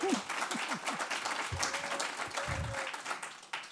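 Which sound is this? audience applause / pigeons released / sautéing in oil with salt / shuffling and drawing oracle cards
audience applause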